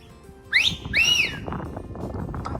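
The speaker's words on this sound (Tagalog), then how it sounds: "Pero sipol yan." Two quick rising-and-falling whistles at You Yangs Regional Park, the second longer and louder, over a steady background murmur.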